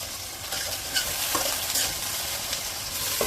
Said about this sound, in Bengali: টমেটো কুচি দিয়ে দিলাম, একটু ডেকে ভেজে নেব